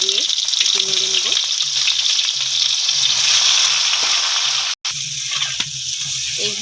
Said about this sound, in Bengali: তেলের মধ্যে এঁচোড়গুলো দিয়ে একটু নেড়ে নেব।